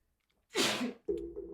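A single sharp sneeze bursts out close up after near silence, followed immediately by a short voiced sound.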